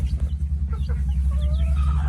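Young laying-hen and native crossbreed chicks, about six weeks old, cheep and cluck faintly over a low, steady background rumble.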